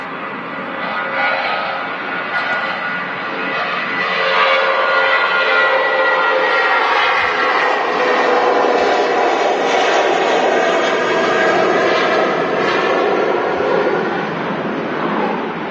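A Lauda airliner at Manchester Airport roars steadily through its takeoff roll, a loud, sustained jet engine noise with a rising whine and no talk over it.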